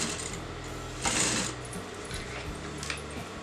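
A sewing machine stitches notched fabric pieces together in a quick, close, rhythmic whir that runs on and off, with a brief louder clatter partway through.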